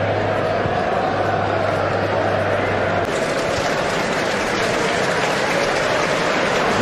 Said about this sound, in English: Ripple of applause as Anderson warms up